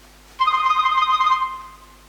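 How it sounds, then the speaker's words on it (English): A mobile phone rings once with a short warbling electronic tone lasting about a second, clear and close in a quiet room, then fades without any talk over it. "that's your phone?"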